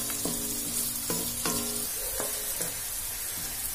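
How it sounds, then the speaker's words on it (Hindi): A carrot, tomato and macaroni mixture cooks in a pan with a close, continuous sizzle, punctuated by several short ringing taps from a utensil. "अब इसको थोड़ी देर कुक होने के लिए छोड़ देती हूँ ऐसे ही।"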